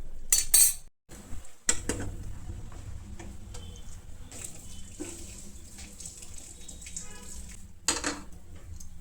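Washed sea fish are drained of water in a kitchen sink, with splashing water and sharp clatters of metal utensils and dishes in irregular bursts, heard close and moderately loud with no talking.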